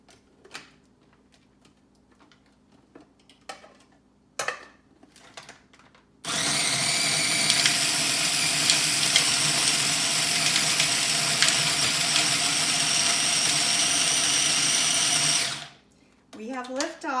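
A kitchen blender blitzing a green gazpacho seasoned with white pepper roars into a loud, steady whir that runs for about nine seconds and then cuts off, after quieter clatter and handling noises.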